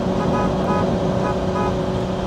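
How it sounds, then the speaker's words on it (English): A 1994 Jaguar XJ-220 sounds its horn in a steady, sustained tone close by, heard over the car's engine hum. "Nice horn."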